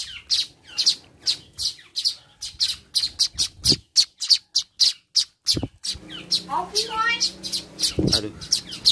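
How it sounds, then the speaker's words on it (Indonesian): A manyar weaver bird calls repeatedly nearby, a rapid string of sharp chirps and short buzzy notes in an uneven rhythm, with a brief human voice mixed in near the end. "Nah, itu burung manyarnya."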